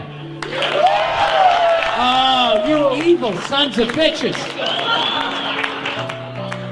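Audience applause and crowd noise at a stand-up comedy show, a steady broadband wash lasting the whole stretch while the comedian keeps talking loudly over it.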